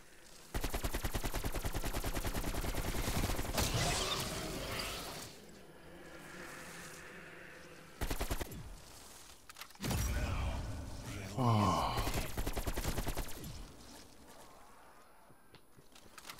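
A new shotgun in the video game Outbreak fires in loud, sharp blasts with dense crackling, several shots in bursts separated by quieter gaps of ambient game noise.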